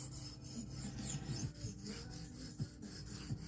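A small knife blade rasps in quick, repeated strokes along a Norton India stone, each pass a close, dry scraping sound in a steady rhythm.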